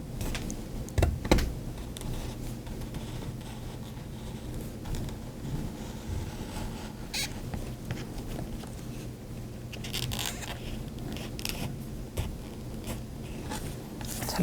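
A knife cutting leather on a small cutting mat, heard as soft scraping and slicing strokes close by, with a few sharper knocks and rustles near the start and again later, and no talking.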